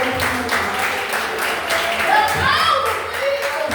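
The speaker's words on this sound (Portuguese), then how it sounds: "Levanta as mãos do alto e aplaude o Pai." Church congregation clapping together in praise, a dense steady patter of many hands with a few voices and a child's speech rising over it.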